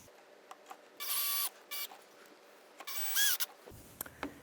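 Screws being driven into the pad of an EXO chair pedal, heard as short, whining bursts from a power driver separated by quiet pauses and small clicks, close by.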